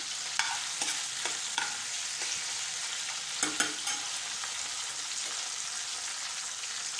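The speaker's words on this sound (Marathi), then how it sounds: "आता हे वाटण टाकल्यानंतर तेलामध्ये छान असं परतून घ्यायचं आहे" Ground chickpea masala paste frying in oil while being stirred, giving a soft steady sizzle with scattered light spoon scrapes and taps, close but fairly quiet, no voices.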